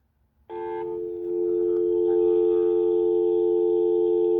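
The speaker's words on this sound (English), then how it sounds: "let's see if you can hear the dial tone on the speakerphone" Steady dial tone from an AT&T TL76108 speakerphone starts abruptly after a short silence, then holds loud and unbroken, with a slight rise in level partway through.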